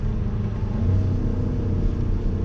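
A BMW M5 F90 with its 600 hp engine and all-wheel-drive xDrive runs through an M Sport exhaust, a deep steady rumble that holds close and fairly loud, with a slight swell in the middle and no talking over it.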